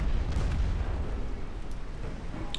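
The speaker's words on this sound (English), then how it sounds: "Oh, torpedo. Oh, lovely. 2 torpedoes." Torpedoes striking a ship in a naval war game set around Korea: deep rumbling explosions with heavy low-end boom, followed by a continuous noisy rumble and a few faint sharp pops, fairly distant and without speech.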